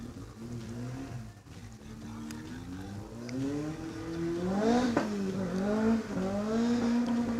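A Datsun 1600 race car at a hillclimb revs hard through repeated rising and falling gear pulls. The engine grows louder as it approaches and ends close and loud.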